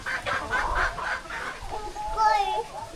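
Chickens cluck in a series of short calls close by, with a person's voice talking over part of it and a brief higher call near the end.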